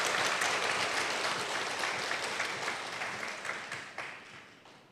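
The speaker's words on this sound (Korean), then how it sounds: "아버지께 영광의 박수 올려드리겠습니다" A church congregation applauds during a mission seminar sermon, a fairly soft wash of clapping that holds steady and then gradually tapers off near the end.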